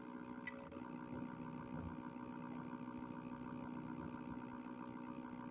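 A GP38 model locomotive with a Lenz decoder runs in reverse at a low speed step, giving a faint, steady motor hum with a fine mechanical whine.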